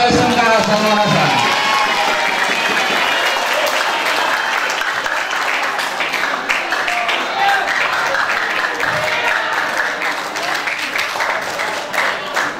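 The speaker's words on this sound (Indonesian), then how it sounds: "Tepuk tangan dulu untuk SMK Zainul Hasan." Loud applause with cheering and shouts from a crowd of vocational school students, a voice speaking briefly at the start before the clapping and whoops swell and continue densely to the end.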